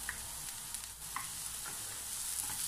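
Onion and ginger sauté in a couple tablespoons of cooking oil, a soft, fairly quiet sizzle with a few light clinks of a utensil against the pan.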